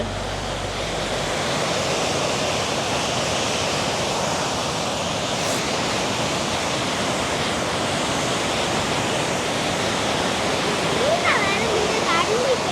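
Water roars and gushes steadily like a loud torrent pouring from the opened Muthaiyankattu reservoir outlet at night, a constant rushing noise throughout, with faint voices barely audible beneath.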